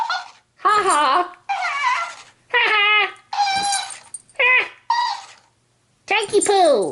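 A dog named Tank whimpers and whines in a string of short, high, wavering cries, close by and fairly loud, with brief silences between.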